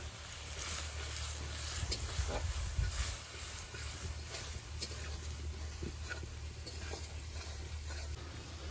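Hilsa fish in mustard sauce gently sizzling and hissing in a wok as it is swirled, a steady soft crackle with a low rumble underneath, fairly quiet and continuous with no talking.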